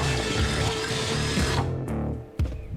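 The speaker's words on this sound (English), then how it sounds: "Then drill them out to the size of the rivnut inserts." A power drill whines steadily at high speed for over a second, enlarging pilot holes to rivnut size, then spins down and gives a short final burst.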